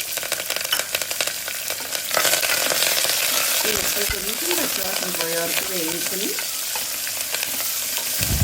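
Steady, loud sizzling of vegetables, curry leaves and tempering spices frying in hot oil in a wok for vegetable masala upma, swelling into a strong crackle partway through and continuing without pause.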